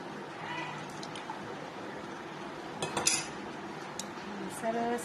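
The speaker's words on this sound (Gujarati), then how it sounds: "એટલે આપણે એને થોડી વાર હલાવી લઈશું" Sugar is stirred into bael fruit sherbet with a spoon, clinking and scraping against the vessel in quiet, irregular strokes with a couple of brighter knocks, close by and without speech.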